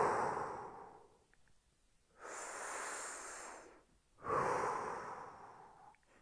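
Someone breathes deeply and slowly during a shoulder stretching exercise, with three long, close, airy breaths separated by short pauses.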